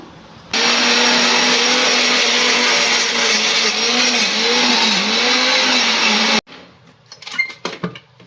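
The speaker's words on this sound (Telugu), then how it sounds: "ఇప్పుడు ఇది మనం మిక్సీ పట్టుకుందాము" A mixer grinder blends soaked sabja seeds with milk and banana, a loud steady whirring drone for about six seconds that cuts off abruptly, followed by a few light knocks and clatters.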